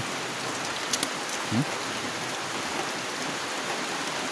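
Steady rain hisses down onto a flooded street, a constant close wash of drops with a couple of faint knocks and no voices.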